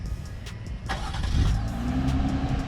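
A 2021 Jeep Gladiator Mojave V6 engine, started by remote, cranks and catches, then settles into a throaty idle with a slight rev, preceded by a few faint clicks.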